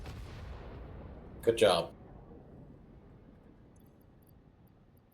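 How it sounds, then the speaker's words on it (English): A sharp burst of explosions in the video game Satisfactory around the midpoint, loud and brief, over a steady background hum, with a voice speaking quietly. "I got some explosions."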